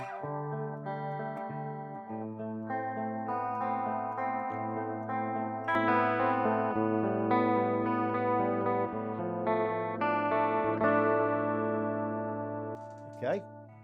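An electric guitar played through a Sonicake chorus pedal, with sustained, shimmering chords and single notes, slightly harsh and swirling, and a steady moderate volume with a brief squeal near the end.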